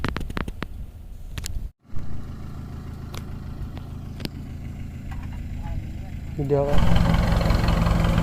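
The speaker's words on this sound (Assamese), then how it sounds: "এইফালে মেচিন নাও এখন আহি আছে" A motorboat engine chugs steadily at a low pitch on a river, its rumble swelling louder and fuller toward the end as it draws closer.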